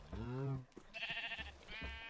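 Two close Minecraft sheep bleats, one at the start and one near the end, each a short, wavering, nasal cry, with a voice talking in the gap between them.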